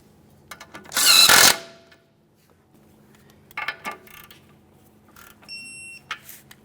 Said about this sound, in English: Start on your outer tie rod end mounting nut. Once you have it started on, snug it up and then torque it to 18 foot-pounds.